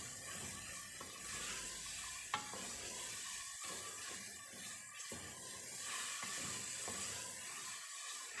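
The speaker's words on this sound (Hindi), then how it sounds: "अब मैं इसको अच्छी तरह से भून लूँगी और इसको उस वक्त तक फ्राई करूँगी" Beef keema with potatoes sizzling in a pan, fried and stirred with a spoon, giving a continuous hiss broken by repeated scraping strokes and a sharp clink, no talking.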